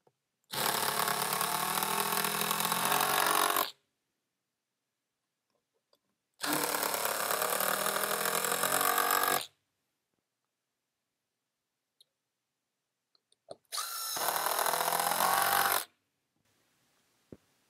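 A power tool drives fasteners into window casing boards in three separate bursts of about three seconds each, loud and close, with quiet gaps and a few light clicks between them.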